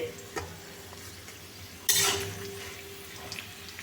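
A lid comes off a pan of frying potatoes with a sudden metallic clatter and a rush of sizzle, which then fades to a quiet steady frying under light utensil clinks.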